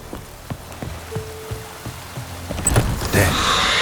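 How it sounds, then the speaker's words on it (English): Rain falling in the video game The Witcher 3: Wild Hunt, soft pattering drops that swell into a steadier hiss toward the end, alongside scattered game sounds. "Looks like rain."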